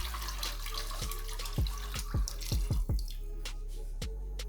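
Meat stock from akhni is poured into a cooking pot for pulao, giving a steady watery stream with several soft splashes and plops near the middle.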